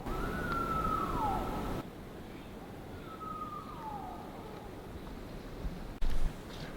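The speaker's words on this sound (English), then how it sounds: "we had heard the wolves howling and moving away from us" Two long, drawn-out wolf howls drift in from far away, each sliding slowly downward in pitch, over a steady low rumble of outdoor background noise.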